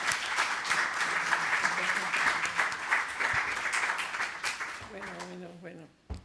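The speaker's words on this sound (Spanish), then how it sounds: "te vamos a dar un aplauso" At a literary gathering in an athenaeum, an audience applauds a speaker with sustained clapping that tapers off, giving way to a voice speaking near the end.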